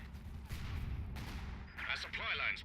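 A grenade blast in a World War II video game battle near Rauray during the Caen campaign, British infantry against Panzer Grenadiers, rising as a loud burst amid steady rumbling gunfire and artillery, with a brief voice in the mix.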